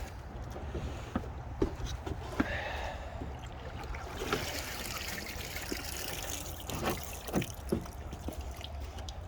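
Creek water flows and trickles steadily over the whole span, a close, continuous wash with scattered sharper splashes and knocks, and no voices.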